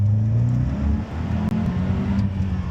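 Stock turbocharged BMW B48 engine fitted in an E36, idling close by as a steady low hum with a smooth, even tone, alone and fairly loud.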